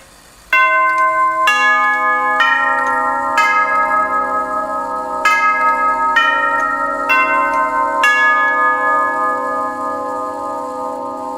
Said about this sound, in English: I'll push the doorbell button I put in this thing.